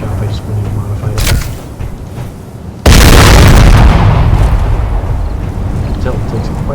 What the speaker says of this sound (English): a single shot from this thing took out that tank